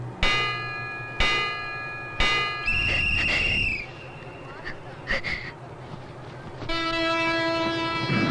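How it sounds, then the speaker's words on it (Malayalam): Kanyakumari–Bangalore Express departing platform 1 at a railway station: loud repeated chime tones and a sustained horn blast ring out over general station rumble and brief noises, with a long tonal horn near the end. "train number 6526 Bangalore bound Kanyakumari Bangalore express leave from platform number 1 shortly"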